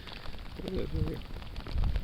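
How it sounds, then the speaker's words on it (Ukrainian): Heavy rain pours down steadily on the ice at a pike fishing spot during a thaw, with a dense patter all around and a voice briefly audible under it. "Просто дощара такий лупить."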